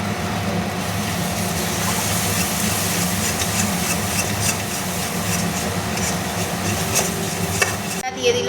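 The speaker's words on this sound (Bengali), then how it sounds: "মাঝখানে তেল গরম করে আবার জিরেটা দিল" Cumin seeds sizzling in hot oil in a pan, a loud, continuous close crackle that holds steady and ends abruptly.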